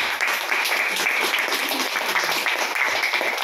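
A church congregation breaks into sustained, dense applause, many hands clapping steadily at moderate distance for several seconds without pause.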